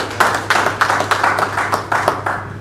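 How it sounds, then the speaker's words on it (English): An audience at a technology forum applauds, a dense burst of close, bright hand claps that keeps a steady rhythm for a few seconds with no talk. "Please a round of applause for him."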